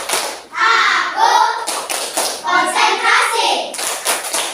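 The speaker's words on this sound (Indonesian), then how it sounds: "Kita melakukan tepuk konsentrasi." Children in a classroom do a rhythmic concentration clap, with bursts of sharp handclaps in repeated patterns and faint voices mixed in.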